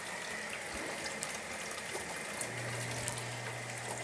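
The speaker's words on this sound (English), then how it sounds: "Turn on the hot water." Hot water runs from a tap under a sink during an interior home inspection, a steady broadband rush of flow that holds throughout with a low hum joining partway through.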